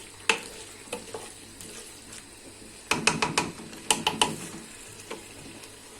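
Chicken pieces frying and browning in a pressure-cooker pot for a seafood paella, with a low background sizzle broken by sharp clattering stirs and scrapes of a utensil against the pot, close up.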